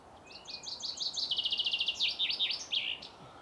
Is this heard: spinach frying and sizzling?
no